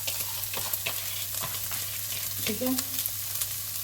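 Onions sizzle in hot oil as they are stirred in a pan, a steady, close frying crackle with scraping strokes of a spoon, while someone briefly speaks over it.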